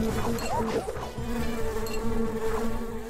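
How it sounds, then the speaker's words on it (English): Bees buzzing in the video game Secrets of Grindea: a steady, dense insect drone with several wavering buzzes layered together, moderately loud and continuous, with no talking. "So many bees."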